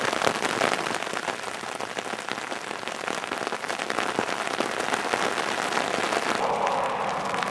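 Cold rain pours steadily in wet, near-freezing spring weather, a dense, even hiss with crisp drops striking close surfaces throughout, no voices.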